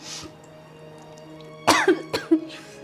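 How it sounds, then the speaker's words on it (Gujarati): One person gives a short cluster of three or four harsh, close coughs in a quiet room, partway through the clip, with throat-clearing sounds among them. "જો ને એને ખાંસી આવે છે."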